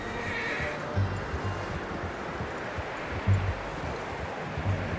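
A horse whinnies in Red Dead Redemption 2 over a steady outdoor ambience, with a few low thumps scattered through the background.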